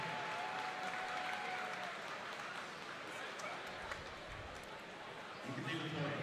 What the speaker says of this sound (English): One more big round of applause as a senior.